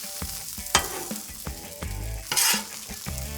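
Sausage and jambalaya ingredients are stirred on a hot griddle, giving a steady sizzle broken by sharp, irregular scraping and stirring strokes, close and clear with no voices.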